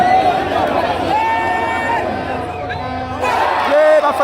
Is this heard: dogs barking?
no